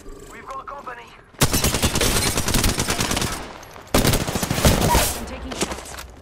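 Apex Legends gunfire comes as two dense, loud bursts of rapid automatic shots, each lasting a couple of seconds, close and sharp. A brief voice is heard before the first burst.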